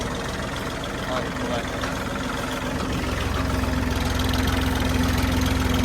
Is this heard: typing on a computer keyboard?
no